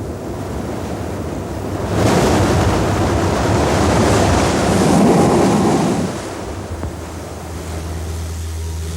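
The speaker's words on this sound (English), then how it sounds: "The geyser-like explosions are triggered by onrushing waves that work their way under the lava shelf and then burst up through the opening." Ocean waves surge under a lava shelf on Kauai and burst up through the Spouting Horn blowhole, a loud roaring whoosh that swells for several seconds and then subsides, with wind and surf throughout and no voices.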